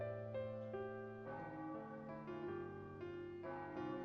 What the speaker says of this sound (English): the sound of the bell echoed throughout the Tower Bridge